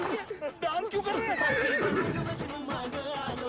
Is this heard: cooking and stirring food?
no